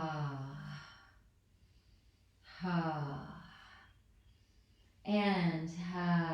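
Three slow, forceful voiced exhales through the mouth, each a long breathy "ha" during yoga breathing, spaced a few seconds apart with quiet inhales between, close and soft.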